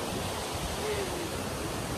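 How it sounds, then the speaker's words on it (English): A large waterfall near Zurich, Switzerland, roars as a steady, dense broadband rush filling the whole moment without a break. "We have arrived to the waterfall."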